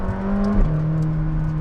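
McLaren 600LT sports car engine holding a steady, loud idle-to-rev drone, with a brief pitch shift midway as revs drop and settle into a lower steady hum, heard up close with no talking.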